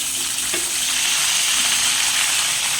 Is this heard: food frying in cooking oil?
yes